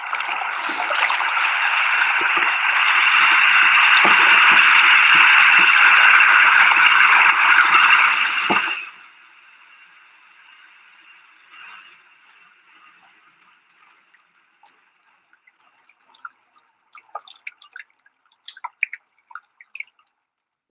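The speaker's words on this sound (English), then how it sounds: "that's the sound of a calving glacier" Ice shedding from the face of a calving glacier 200 to 300 feet high in Alaska, a long loud roaring rush of falling ice that cuts off abruptly, followed by faint crackling, dripping and popping bits settling.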